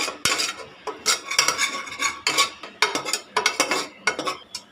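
A spoon scrapes and clanks against a pot as murungai keerai (drumstick-leaf) rice is mixed with coriander powder, in quick repeated strokes, close and fairly loud, with no talking.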